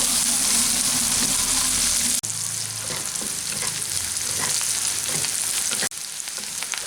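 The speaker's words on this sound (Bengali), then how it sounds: "পেঁয়াজটাকেও এগুলোর সাথে হালকা করে ভেজে নেব" Chopped onion frying in a pan with garlic and chilli for Bengali musur dal posto gives a loud, dense, continuous sizzle with stirring, briefly interrupted twice, and no voices.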